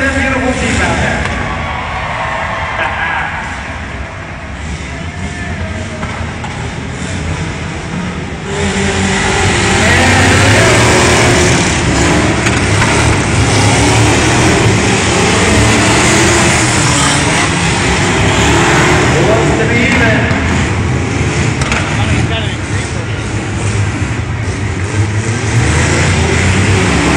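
A blue Subaru and a black Jeep CJ7 race at a tuff truck event, their engines roaring and revving hard, loud and close, swelling louder partway through and holding a continuous throaty drone to the end.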